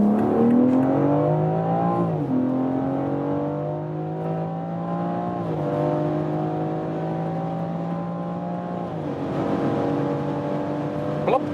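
A 2020 BMW X4 M Competition pulls hard from about 50 km/h, its engine note rising steadily through several gears with brief dips at each shift, heard from inside the cabin as a continuous strong drone.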